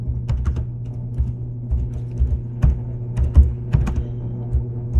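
Sparse, irregular keystrokes from one-finger typing on a computer keyboard, each a short tap spaced apart over a steady low hum, close and moderately loud with no talk.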